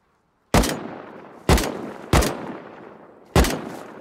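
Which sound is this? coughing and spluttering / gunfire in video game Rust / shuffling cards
gunfire in video game Rust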